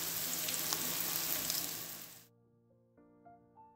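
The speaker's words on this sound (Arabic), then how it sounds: "نحط حبيبه تاع البصل تتقلى" Onion and garlic fry in oil, a bright dense sizzle for about two seconds that fades out abruptly, leaving low tonal background music.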